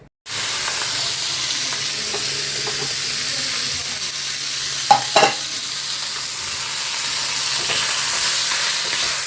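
Mourala fish fry in oil in a wok with a steady, close hiss of sizzling broken by a couple of sharper spits and spatters midway, and no voices.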